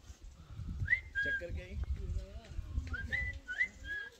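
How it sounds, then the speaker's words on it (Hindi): People whistling on a roadside during a motorcycle ride, several short rising whistles repeated over faint low rumble, with people talking quietly alongside. "रोज आके लोग सीटियाँ मारते हैं।"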